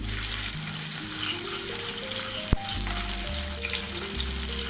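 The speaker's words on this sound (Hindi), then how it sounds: "तो चलिए तेल अब गर्म हो गया है। जो अदरक मिर्ची जो कूट के रखे थे उसे डाल देते हैं।" Crushed ginger and green chilli frying in hot oil, a steady close sizzle with a brief sharp clink partway through over a low background musical drone.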